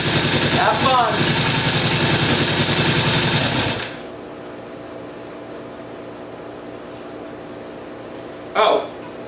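A Norton motorcycle engine runs steadily and close, then drops away as the bike pulls off in gear, leaving a quieter fading hum with a brief noise burst near the end.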